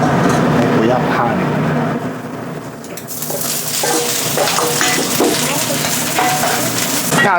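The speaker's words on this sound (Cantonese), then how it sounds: "而家我哋就準備爆香啲蒜同薑啦" Garlic and ginger sizzle and crackle loudly in hot oil as they are stir-fried, a dense continuous frying hiss with scraping stir sounds, while a person talks over it.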